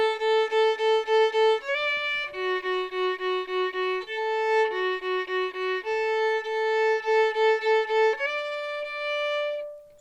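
A solo fiddle playing the tune Bow to Your Partner with grace notes, clear bowed notes in a bouncy, steady rhythm with quick ornamental flicks before some notes, played close and alone.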